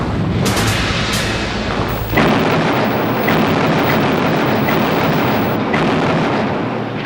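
Continuous heavy booming of aerial bombing on Pacific atolls in the Gilbert Islands during World War II, a dense rolling barrage of loud explosions with sharper blasts punching through at intervals, no voices.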